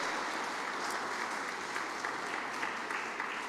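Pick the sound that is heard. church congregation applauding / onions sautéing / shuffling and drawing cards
church congregation applauding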